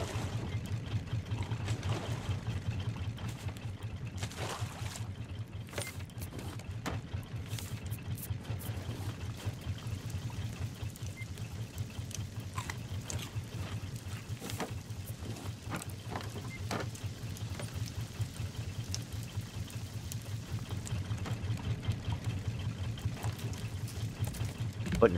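Raft boat engines run steadily in the survival game Raft, a continuous low droning hum with faint splashing water over the whole stretch, alone and without talk.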